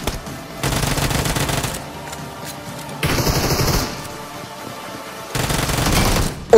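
Automatic gunfire in the mobile battle royale game PUBG Mobile, several loud bursts of rapid shots separated by brief lulls, with one sharper burst near the middle and another toward the end.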